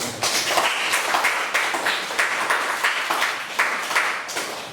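A classroom audience applauds after a group presentation, a steady patter of many hands clapping together, fairly close and continuous, with no talking over it.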